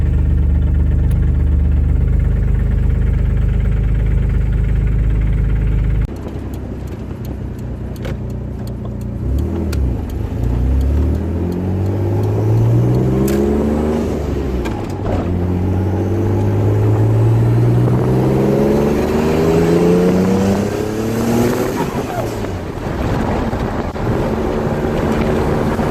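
A 1990s Mitsubishi 3000GT VR-4 with a boost controller fitted, heard from inside while driving: a steady engine drone, then rising and falling revs through gear changes, with strong wind and road noise and no talk.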